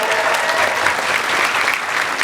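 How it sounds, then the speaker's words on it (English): Audience applause at a Star Trek Discovery fan convention panel, dense and loud clapping from a large crowd, steady across the whole stretch. "Give her a big round of applause."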